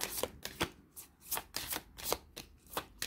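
A small hand of tarot cards is shuffled near the listener, with soft papery slaps and riffles repeating in a quick, fairly even rhythm, about eight strokes in a row with no voices.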